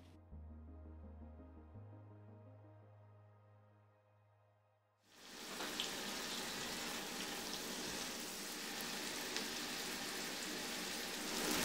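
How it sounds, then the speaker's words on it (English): Onions sauteing in butter in a pan give a steady, rain-like sizzle that starts abruptly about halfway through, after a stretch of soft tonal music, and continues evenly to the end. "put in the onions, let those saute down for a little bit"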